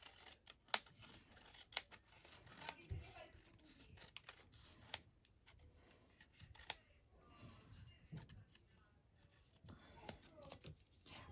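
Scissors trimming the sides of a long paper tag, a series of quiet, close snips and paper rustles spread through a calm room, with faint handling noises between cuts.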